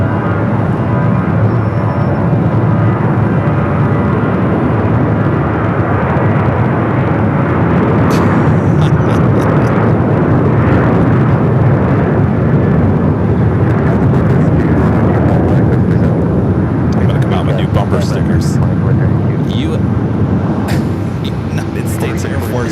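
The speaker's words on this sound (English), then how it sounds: "Now we have a C-17 just popping out of nowhere." A Boeing C-17 military transport aircraft at Phoenix Sky Harbor airport gives a loud, steady roar that fills the whole stretch, with radio voices talking over it.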